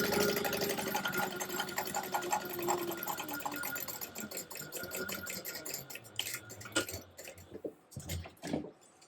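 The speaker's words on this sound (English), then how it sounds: "I will be stitching an 1/8 of an inch away from the" A sewing machine runs a line of stitching along fabric an eighth of an inch from the fold, with a steady, close whirring hum that pulses slightly before breaking into a few louder knocks and clatters near the end.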